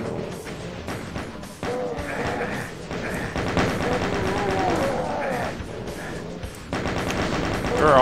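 Rapid gunfire from hitscan enemies in Doom 2 rattles almost nonstop, dense bursts of shots stacked with game effects, while someone talks over the shooting.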